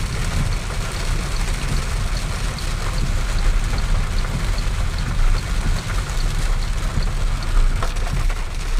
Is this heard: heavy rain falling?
yes